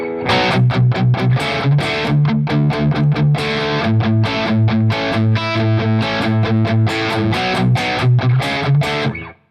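Loud overdriven electric guitar chugging in a steady rhythmic riff through the low-gain side of an amp, crunchy distorted tone throughout, stopping abruptly at the end.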